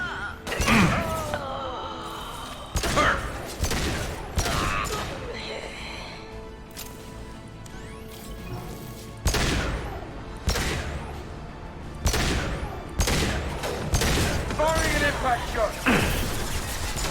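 Rifle fire in the sci-fi shooter Mass Effect 2 comes as scattered sharp bursts and heavy thuds across a combat scene, loud and near, with voices talking between and over the shots.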